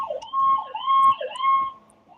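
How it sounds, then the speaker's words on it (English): A police siren wails at a moderate distance, rising and falling in repeated cycles about half a second apart during a pursuit, with no voices over it. "They're following them and they're letting off them sirens."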